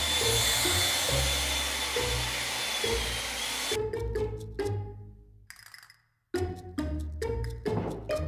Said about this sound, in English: Blow the leaves out